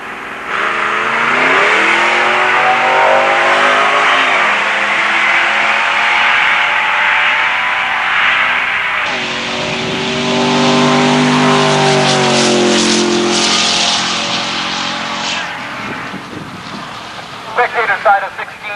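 Drag race cars, a Monte Carlo SS and a 1974 Duster 360, roar loudly at a dragway, engines revving up through rising gear pulls and then fading away, with an announcer talking over the noise.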